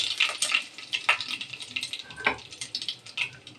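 Curry leaves and mustard seeds fry in hot oil with a steady, crackling sizzle, close by, with popping spits and a stirring clatter of the pan.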